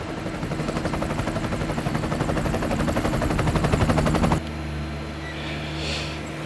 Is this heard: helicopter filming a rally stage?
yes